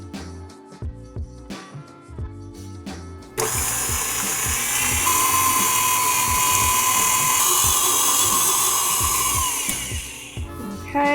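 A handheld electric mixer beats cake batter as eggs are added for an apple cider donut cake, starting with short bursts and then running as a loud, steady whir for several seconds before it stops.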